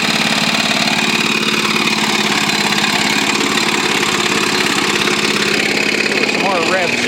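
An engine with a JB Weld-patched piston runs steadily with a rough, throbbing rumble, blowing smoke, and its pitch rises briefly near the end as it revs.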